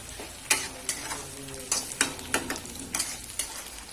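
Ginger garlic paste sizzles with reddish fried onions in a pan, a steady fry broken by about a dozen sharp scraping stirs at an even, brisk rhythm, close and clear with no voices.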